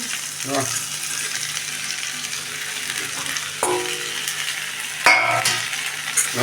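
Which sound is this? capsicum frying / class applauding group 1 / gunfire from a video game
capsicum frying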